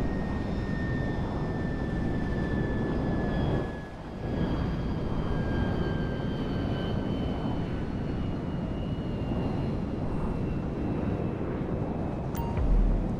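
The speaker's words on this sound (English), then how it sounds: "Where's that plane going?" A large cargo plane flies through GTA V with a steady, loud engine drone and wind rush across the whole stretch, briefly dipping near the middle before holding constant again.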